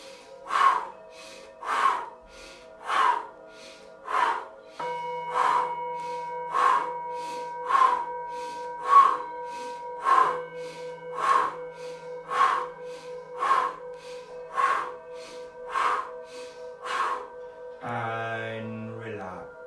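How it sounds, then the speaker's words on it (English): Rapid breathing in through the nose and out through the mouth during a guided breathing exercise, a steady series of about fifteen rhythmic breaths over soft sustained music, then a short voice at the end. "breathe as fast as you can, in through the nose and out through the mouth"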